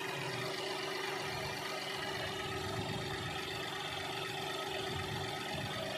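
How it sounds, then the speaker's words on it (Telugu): A Mahindra TUV300 diesel engine, with nearly one lakh on it, idles with a steady low rumble and a constant mechanical drone, heard up close and unchanging throughout. "మనకి ఇది వెళ్ళే కొద్దీ ఇంజిన్ నాయిస్ తగ్గటం గమనించవచ్చు"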